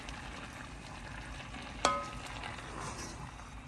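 Green beans coated in a savory-sweet glaze sizzle steadily in a frying pan as they are gently folded, a soft continuous fry with one brief sharp clink of a utensil midway.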